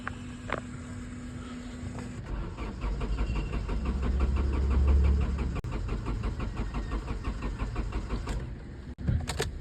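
A Hyundai Verna's self-starter cranks in a fast, rhythmic whir of about seven seconds, close and loud, while the engine fails to fire. The starter then cuts off with a short clunk. There is no speech.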